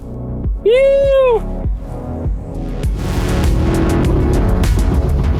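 A Mercedes CLS 63 pulling away, a low engine rumble rising into a steady throbbing drone as the car drives off, preceded by a short high tonal sound and light cabin noises.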